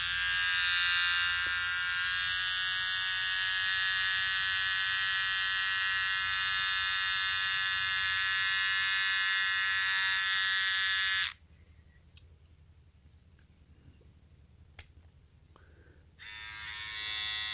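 A Wahl Lithium Ion+ cordless trimmer runs with a loud, steady buzzing whine for about eleven seconds, then cuts off abruptly, leaving quiet room tone and a brief faint restart near the end.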